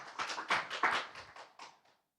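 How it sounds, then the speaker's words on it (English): A short round of audience applause at a manufacturing safety symposium, a cluster of hand claps that thins out and stops within about two seconds. "applause. Thank you very much."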